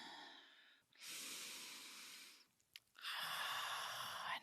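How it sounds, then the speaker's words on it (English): Slow deep breathing close to the microphone, a long airy exhale followed by a pause and then another drawn-out breath, alone and fairly soft. "Take a few deep breaths."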